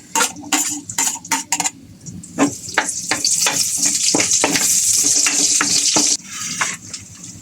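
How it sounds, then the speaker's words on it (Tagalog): Garlic hits a hot pan and sautés with a bright, steady sizzle, broken by sharp clinks and scrapes of a metal utensil stirring against the pan, close and loud with no voices. "Gisa natin ng bawang."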